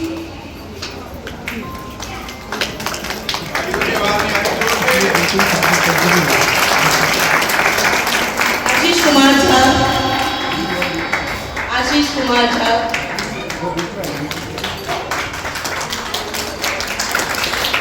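An audience applauds at the closing ceremony of a yoga camp, steady clapping sustained across the clip under an announcer's amplified voice naming participants.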